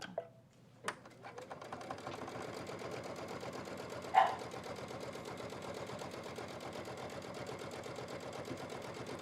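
A sewing machine stitches steadily along the side of a quilt block, a fast, even mechanical whir that runs nearly the whole time. Two brief clicks come early on and a sharper knock falls midway.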